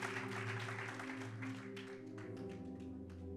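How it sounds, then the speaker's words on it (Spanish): A church congregation claps in praise, a broad wash of applause over a sustained low hum of instruments, continuous and fairly distant, tapering slightly toward the end. "dele otro aplauso a Dios"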